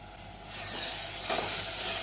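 A lid comes off a pan of tomato, onion and ginger-garlic paste for a dhaba-style black rajma curry, and a steady close sizzle swells to full loudness within half a second, then holds with soft stirring scrapes.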